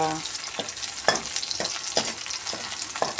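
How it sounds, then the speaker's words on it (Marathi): Asafoetida, turmeric and red chilli powder dropped into hot oil for a tempering in a dal curry, giving a steady close sizzle and fry with soft stirring taps against the pan, no voices. "थोडंसं हिंग हळद लाल तिखट फोडणीतच टाकणार"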